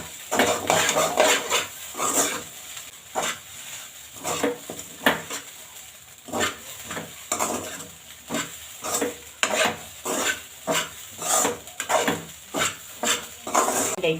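Fish roe fry being mixed with salt in a pan: repeated rhythmic scraping and clinking of a metal spoon against the pan over a soft sizzle, close and fairly loud.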